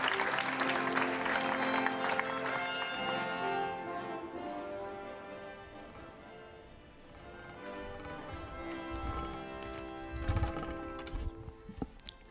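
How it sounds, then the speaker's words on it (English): Audience at the Women's EHF EURO 2020 qualifiers draw ceremony applauding an official of the Danish Handball Association, clapping strongest at the start, then easing under music and tones, with a brief burst near the end. "Please give Per Bertelsen a big applause."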